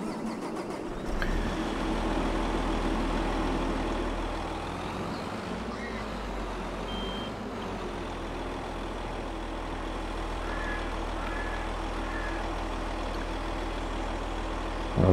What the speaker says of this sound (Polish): Rozgrzać maszynę, silnik,